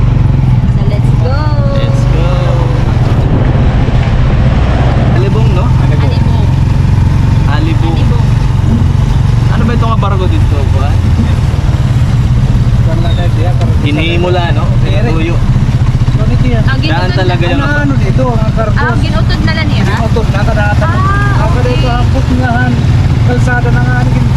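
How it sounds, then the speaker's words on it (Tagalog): Motorcycle engine of a tricycle taxi runs steadily and loud throughout a ride, a constant low drone under lively talk and laughter from passengers. "Ayan, sakay kami ng tricycle."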